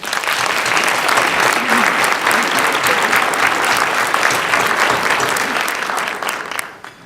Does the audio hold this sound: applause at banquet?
yes